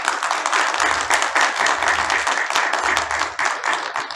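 An audience applauds at a book launch ceremony for Ali Sadaf's poetry book, a brief burst of dense clapping from many hands that carries on steadily throughout.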